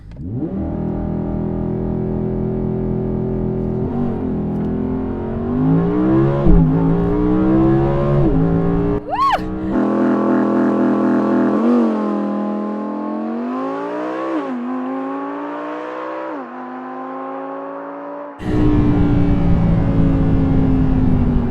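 A 2019 Audi R8 engine revs hard and close, then screams through a rapid, forceful launch-control acceleration, climbing in pitch through several gear changes.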